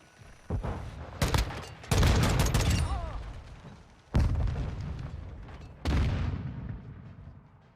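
Gunfire in GTA V comes as about five loud, heavy single shots spaced irregularly. Each booms out and trails off in a long reverberant decay.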